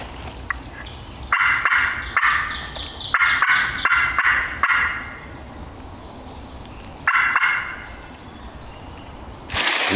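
A wild turkey gobbler calls several times in rough succession from far off, each gobble a faint rattling burst set against outdoor quiet, with a couple of later calls after a pause.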